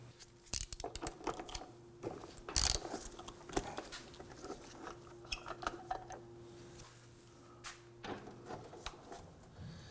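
Rusty nuts are worked loose with a 12mm wrench on the fuel tank of a 2005-2009 Subaru Legacy 2.5L, giving scattered metallic clicks, clanks and ratcheting taps close by, with quiet gaps between.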